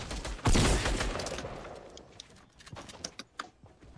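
Gunfire in a video game opens with one loud, close burst, then fades into a scatter of sharp shots and clicks, some quieter and farther off.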